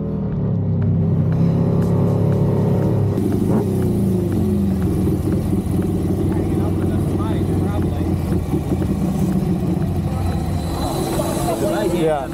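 Flat track racing motorcycles at Daytona during a heat race, engines roaring and revving continuously at close range, with commentators talking over the noise.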